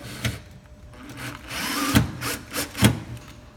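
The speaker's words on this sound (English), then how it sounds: "We just use self-tapping screws, it fits there beautifully." A power drill drives self-tapping screws to mount a black box on the steering column of a Polaris RZR, giving several short close whirring bursts with brief pauses between them.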